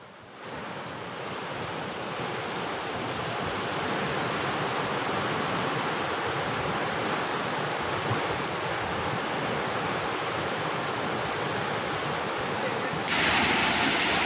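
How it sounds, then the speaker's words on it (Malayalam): Water gushes with a steady, heavy roar through a crack in the wall of the Bhoothathankettu check dam in Kerala, continuous and loud throughout with no voices. "ഭൂതത്താൻകെട്ട് ചെക്ക് ഡാമിന്റെ ഭിത്തിയിൽ വിള്ളൽ, വെള്ളം പുറത്തേക്ക് കുത്തിയൊലിച്ചൊഴുകുകയാണ്"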